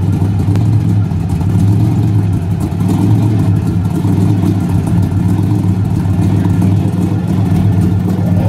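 A car revs through a side exhaust at a small outdoor car meet, a loud, steady low engine roar that holds close and continuous, its throaty rumble barely rising and falling throughout.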